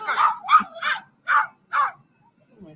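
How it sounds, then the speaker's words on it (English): A dog barks about five times in a quick uneven series, loud and fairly close, then whimpers faintly, with no talk over it. "The dog barking in the background is kind of hilarious."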